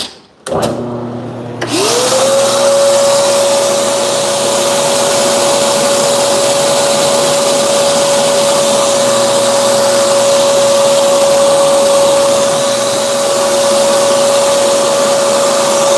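A power drill spins up from a brief start into a loud, steady, high whine that holds constant for the rest of the clip.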